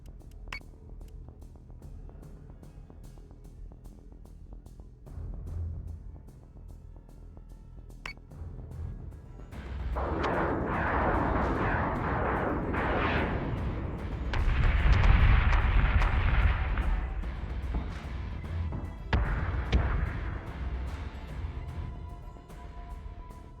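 Missiles strike ships in the space combat game Battlestar Galactica Deadlock, rumbling waves of explosions and booming impacts building up after a quiet stretch, with a steady mechanical ticking pulse running beneath the battle throughout.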